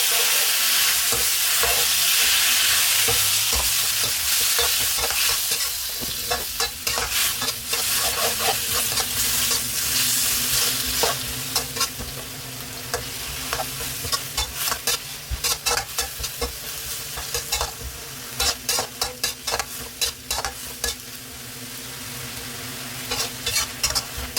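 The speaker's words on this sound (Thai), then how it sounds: "ผัดต่อจนส่วนผสมเข้ากันได้เลยนะครับ" Chinese kale and prepared ingredients stir-fried in hot oil give a loud, dense sizzle up close, broken by a rapid run of sharp scraping and clattering strokes as the mix is tossed in the pan.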